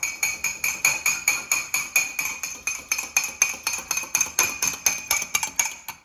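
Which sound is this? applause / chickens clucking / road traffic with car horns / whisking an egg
whisking an egg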